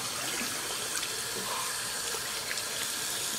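Tap water runs steadily into a sink while a small toy is rinsed off, a continuous close splashing hiss with no talking.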